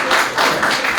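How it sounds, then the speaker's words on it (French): A studio audience on a live broadcast gives a short, loud burst of applause that lasts about a second. "Je voudrais qu'on applaudisse pour lui"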